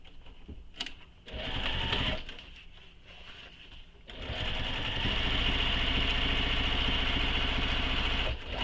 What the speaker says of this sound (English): So now I'm going to sew the second row of stitching.